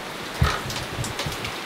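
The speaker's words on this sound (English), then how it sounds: "we're stopped by the rain." Steady rain falls in the woods as a soft, close patter, with a slightly louder splash or drop standing out early and no one speaking.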